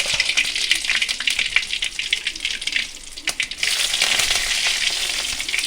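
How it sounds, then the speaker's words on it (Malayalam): Mustard seeds and curry leaves sizzle loudly in hot oil for an egg thoran, a dense crackling hiss that stays steady, dips briefly, then surges back strong, with no talking. "കടുക് പൊട്ടിയതിന് ശേഷം കുറച്ച് കറിവേപ്പില എടുക്കുക ഇങ്ങനെ അങ്ങോട്ട് ഇട്ട് കൊടുക്കുക"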